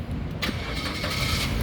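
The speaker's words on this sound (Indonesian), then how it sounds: "berikutnya coba kita nyalakan mobil" A 2008 Suzuki Neo Baleno 1.5 SX automatic car cranks briefly and its engine catches, settling into a steady close-up idle with no talking.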